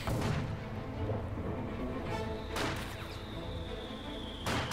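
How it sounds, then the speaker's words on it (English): Mortar rounds from a half-track thump away in a Company of Heroes 2 battle, with sharp blasts and distant impacts over a dense rumble of game combat, no voice on top. "A mortar half-track up there from the Aufklärungsabteilung, or Panzeraufklärungsabteilung there for NoiseofCarpet."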